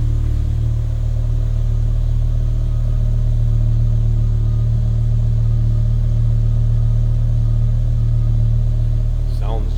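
A 2007 BMW M6 coupe's engine runs steadily at idle, a constant low rumble with a few faint sounds on top, heard close and alone for about ten seconds.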